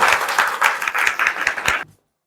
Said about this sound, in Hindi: पल्लवी कुमारी के लिए एक बार जोरदार तालियां।